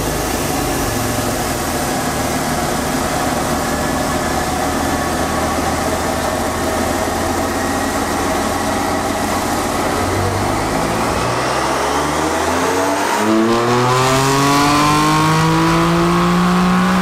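A tuned BMW F82 M4 engine on a chassis dyno runs loud and steady through a full-throttle pull, its note climbing steadily, then it drops back sharply near the end as the throttle closes.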